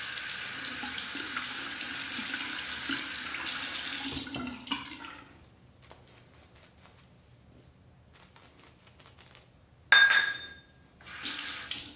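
A razor rinsed under a running sink tap, a steady hiss of water that cuts off, then a few faint clicks and a short burst of water again at the end.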